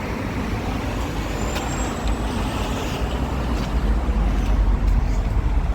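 Busy road traffic on market day in Bridport, with a steady low rumble of trucks and cars passing nearby, growing heavier toward the end, and a brief hiss like an air brake.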